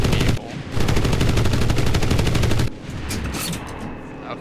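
Aircraft cannons fire in a World War II combat video game, a rapid close burst of shots lasting about two seconds, followed by a quieter, rumbling tail.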